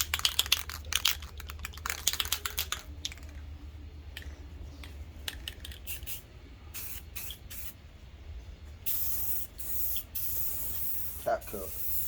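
An aerosol can sprays a coating onto a cracked plastic VLAND taillight in short hissing bursts at first, then in longer steady passes, heard up close.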